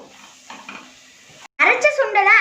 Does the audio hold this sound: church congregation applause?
no